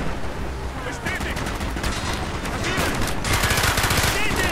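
Rapid gunfire in Call of Duty Black Ops rattles on steadily throughout, dense automatic bursts layered with scattered shots, loud and close, with a voice faintly mixed in.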